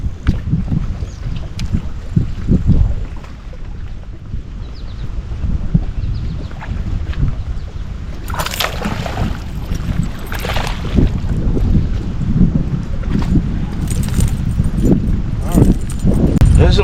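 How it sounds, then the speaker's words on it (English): A breeze gusts over a bass fishing boat on the water at night under overcast skies, a steady rushing, buffeting roar that fills the whole stretch, loud and close. "We've got a nice overcast and a nice breeze"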